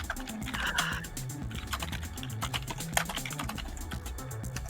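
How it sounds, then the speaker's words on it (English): Several people type on computer keyboards in an office-like room, a steady quiet patter of clicking keys with scattered louder taps and no talking. "We're all typing."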